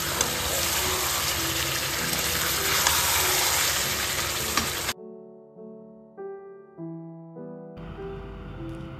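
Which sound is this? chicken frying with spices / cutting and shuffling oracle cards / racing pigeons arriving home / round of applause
chicken frying with spices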